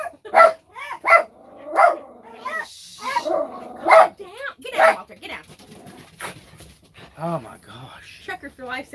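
A dog barks loudly in a series of sharp, evenly spaced woofs close by, then quieter yelps, with people talking around it.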